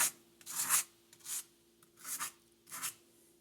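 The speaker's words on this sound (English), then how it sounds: "you can do a pretty good job of sanding those to get them to come up" Rhythmic sanding strokes on model sidewalk pieces, four or five bursts of dry abrasive rasping at a steady pace, close and fairly quiet with brief pauses between.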